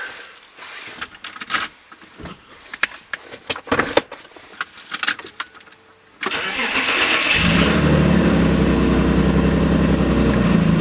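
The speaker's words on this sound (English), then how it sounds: "Exhaust still sounds horrible as ever." A lowered BMW E36/E46 cranks and fires up, settling into a loud, steady idle with a harsh, droning exhaust that stays near and constant after a few seconds of clatter and shuffling noise.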